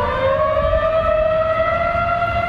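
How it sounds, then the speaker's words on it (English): Loud, sustained wail of a city's emergency warning sirens, all triggered at once, a steady droning tone that holds without pause. "triggering all of the city's emergency sirens at the same time"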